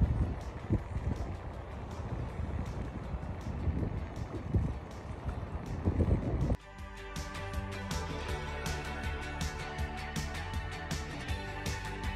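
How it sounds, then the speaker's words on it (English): Wind gusting around a boat riding at anchor in the Bay of Islands, heard as a rough, rumbling rush for about six seconds before it drops to a steadier, quieter hum. "The wind appears to be dropping."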